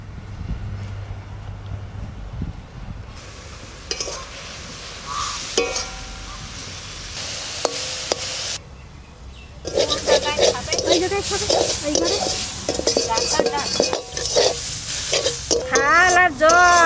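Leafy greens from a home garden fry in a pan with chillies, turmeric and salt, hissing and crackling under scraping stirs. Voices speak over the cooking noise in the later part.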